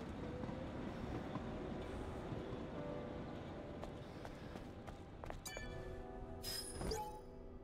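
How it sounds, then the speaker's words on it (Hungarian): A train rumbles steadily in the video game Stellar Blade, a continuous low mechanical roll with clanking, metallic ringing and rattles building near the end. "Lerobban a vonat"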